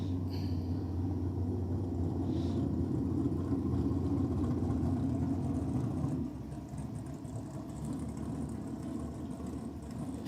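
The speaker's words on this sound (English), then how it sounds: "We can hear an engine." Drag racing car engine idling at the start line of a championship meet, a steady low rumble heard from a distance that drops slightly in level partway through.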